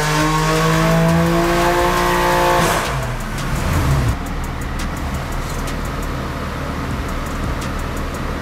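Car engine on a dyno pull with water-methanol injection and a custom tune, revving hard with a rising whine that cuts off near three seconds, then a rougher lower drone continues steadily, loud and close.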